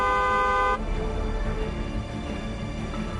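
A car horn gives one loud, steady honk lasting under a second, then cuts off and leaves a continuous rumble of road traffic and engine noise.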